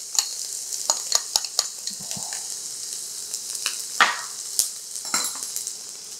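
Curry paste, garlic, ginger and red pepper frying in a pan, stirred with a utensil: a soft continuous sizzle broken by sharp scraping clicks and taps of the spoon against the pan, close up.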